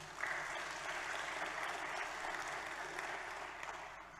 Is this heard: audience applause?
yes